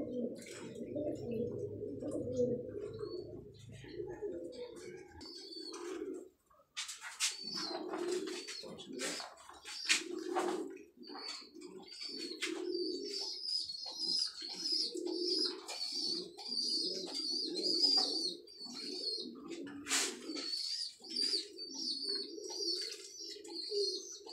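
Pigeons coo in low, repeated throaty bursts throughout, with small birds chirping steadily in the background.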